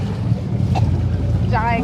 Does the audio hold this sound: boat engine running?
yes